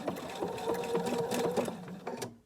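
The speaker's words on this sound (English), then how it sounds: "Back from where we started, I'm going to do a fixed stitch" A sewing machine stitches appliqué onto a fabric coaster, running in a loud close mechanical rattle for about two seconds before stopping, with no talk.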